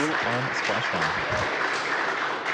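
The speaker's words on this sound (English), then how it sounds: "I don't know if you can hear the applause," Applause breaks out in a mission control room at the splashdown of the SpaceX Crew-1 Dragon capsule Resilience, steady clapping running under a voice speaking over it.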